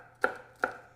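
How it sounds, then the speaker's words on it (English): Two crisp knife strokes through rolled basil leaves on a cutting board, cut into chiffonade strips, each a sharp close knock spaced under half a second apart, with no talk. "chiffonade, rolling it up, making little strips out of it"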